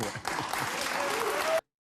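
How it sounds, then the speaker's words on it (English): A dense, steady wash of audience clapping comes in close and loud, sustained for about a second and a half before cutting off abruptly. "So they can clap all they want"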